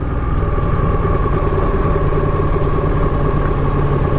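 A Ducati 959 Panigale motorcycle riding through Cambridge gives a loud, continuous engine drone with a dense rumbling texture, close and unbroken throughout.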